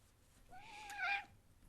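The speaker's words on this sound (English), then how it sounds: "This little whiny butt is my cat Leonidas." A single whiny cat meow, rising and falling in pitch, fairly close and moderately quiet against a faint room background.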